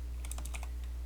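A short, faint burst of keystrokes on a computer keyboard as an email address is typed, about a dozen quick clicks over a steady low hum.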